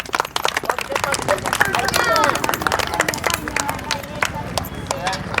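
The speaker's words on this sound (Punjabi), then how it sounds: "ਤਾੜੀਆਂ ਮਾਰੋ ਤੁਸੀਂ ਸਾਰੇ ਜਣੇ" Crowd clapping at a village game gathering: dense, fast, continuous hand claps from many people close by, with chatter and voices mixed in throughout.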